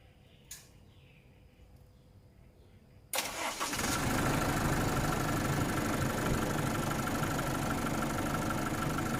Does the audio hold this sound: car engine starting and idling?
yes